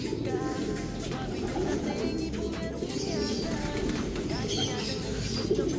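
Soft coos from pigeons in a loft repeat through steady outdoor background noise, with faint voices murmuring underneath.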